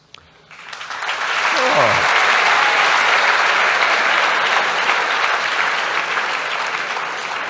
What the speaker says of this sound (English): Every question we ask, please applaud